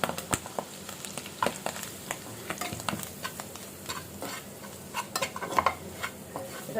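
Flour stirred and lightly roasted in an equal amount of butter, giving a steady soft sizzle with repeated spoon scrapes and clicks against the pan, close and moderately loud with no talking.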